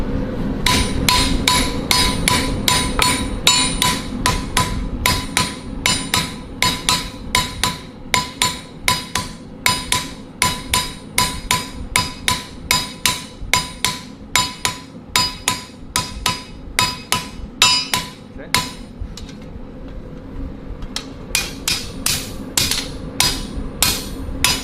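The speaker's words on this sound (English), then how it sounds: "Let's heat it up and hammer it down." A blacksmith hammers heated metal in a steady, loud series of sharp ringing blows that repeat rapidly for a long stretch, with a short pause before the strikes resume.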